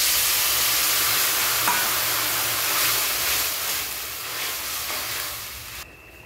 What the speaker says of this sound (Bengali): লবণ দিয়ে জল দিয়ে দেবো, স্বাদ মতন লবণ দিলাম।